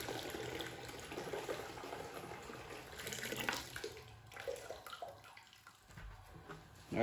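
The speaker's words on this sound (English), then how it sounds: "First thing I'm going to do is pour the remaining water in here" Water pours steadily into a homebrew beer pot, a rushing, splashing stream that tapers off toward the end.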